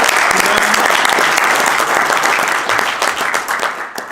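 Audience at a Swiss Romandie maintenance conference giving loud, close applause: dense clapping from a full room, holding strong before thinning out toward the end.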